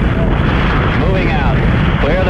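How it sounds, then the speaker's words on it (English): Loud, continuous rocket-engine roar at liftoff in Kerbal Space Program, a dense steady rumble filling the clip, with radio voices talking over it. "We have a liftoff. All engines building up thrust."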